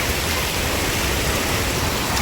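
River water rushes and flows in a loud, steady close-up wash where motorbikes are being washed, a constant hiss with no breaks.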